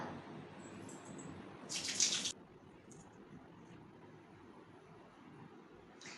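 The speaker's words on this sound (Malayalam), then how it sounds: "ബ്രഷ് കഴുകുക." A toothbrush rinsed under a running tap gives a soft, low stream of water with a brief louder splash near the middle, faint and close, with no talking.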